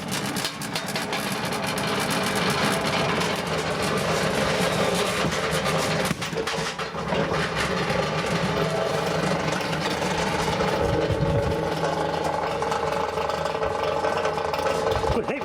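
A rewired vintage refrigerator compressor hums and vibrates steadily and loudly throughout, a continuous mechanical drone while people talk over it.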